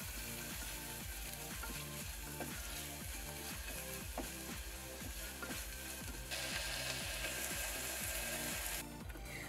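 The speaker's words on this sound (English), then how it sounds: "I add the green seasoning, garlic, chopped onion, and a little more pepper, and let it cook for about a minute or two" Garlic, chopped onion and green seasoning with a little pepper frying steadily in hot oil for a BBQ sauce, a close, continuous sizzle with soft crackles and occasional scrape of stirring, no voices.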